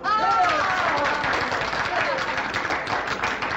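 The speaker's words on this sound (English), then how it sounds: "Here's the one they should clap for." An audience applauds steadily, a thick wash of clapping that fills the whole stretch at close range, with a voice briefly rising over the start.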